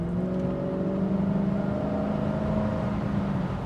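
Cadillac Allanté engine under way, a steady low drone with a faint rising whine as it pulls, heard from inside the car at moderate level with no talking.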